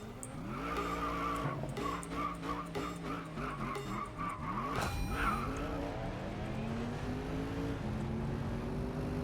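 Audi RS7 drifting at full steering lock in the racing game Racing Master, its engine droning loudly while tires squeal continuously, with pitch sweeping down and back up midway as the car slides through the corner.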